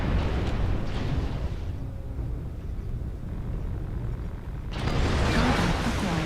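Missile explosion in MechWarrior Online: a long low rumbling blast that fades, then a second loud broadband burst near the end, dense and close with heavy low-end rumble.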